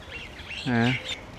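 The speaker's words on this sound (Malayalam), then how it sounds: "രാവിലെ പക്ഷികളൊക്കെ ഇങ്ങനെ ശബ്ദം ഉണ്ടാക്കുന്നുണ്ട്" A single brief nasal call from a bird in the morning, quacking and fairly close but faint, standing out over quiet background hiss.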